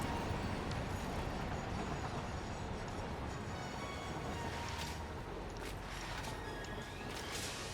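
A distant, muffled rumble of a passing train in the video game Satisfactory rolls on steadily, with faint rattling and clacking throughout.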